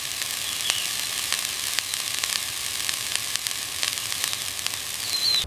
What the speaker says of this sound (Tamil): இப்ப வல்லாரக்கீரையை போட்டு லேசா வதக்கிக்கோங்க, ரொம்ப வதக்க வேணாம்